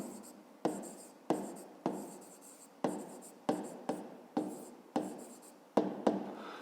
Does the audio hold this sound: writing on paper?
yes